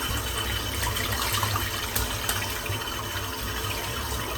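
A shaving brush rinsed under a running tap, steady close splashing and gushing water that continues throughout with no speech.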